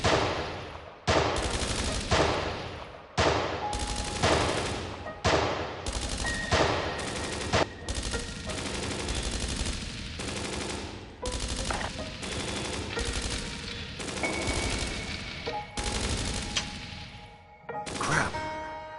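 Gunfire in the video game Dreams of Another, a long run of loud, close bursts and repeated shots with short gaps between volleys, continuing almost without pause for the whole stretch.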